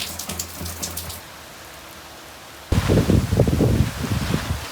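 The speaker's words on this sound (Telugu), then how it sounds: "ఇప్పుడు ఫుల్ గాలి వానతో స్టార్ట్ అయింది" Heavy rain driven by strong wind on a cyclone day, first a lighter patter, then a brief lull before a loud, dense downpour surges in close by and roars steadily.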